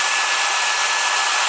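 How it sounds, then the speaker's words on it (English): Steady, loud whooshing of a hair dryer blowing hot air over heat shrink on bike connectors, a continuous even rush with no pauses and no talk. "I always find a hairdryer much better because of the airflow it creates around the heat shrink"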